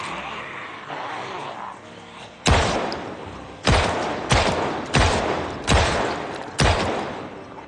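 Six sharp, loud 9mm pistol shots in Project Zomboid ring out one at a time at irregular spacing, each a hard crack with a short decay, after a quieter stretch of background noise.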